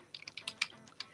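Quick keystrokes on a computer keyboard while a search is typed, about eight light clicks in an uneven burst, close and faint with no speech.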